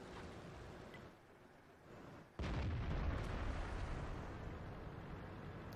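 Artillery shells burst near a tank in the video game World of Tanks: a sudden heavy blast cuts in after a quieter stretch, followed by a sustained loud rumbling roar, with no talking.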